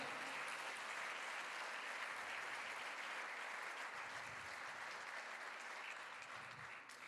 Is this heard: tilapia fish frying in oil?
no